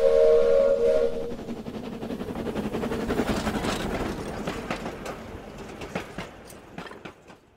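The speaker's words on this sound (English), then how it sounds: "That's an old-fashioned steam train" An old-fashioned steam train whistle sounds at first, then steady chugging and rhythmic rail clatter continue, fairly loud and close.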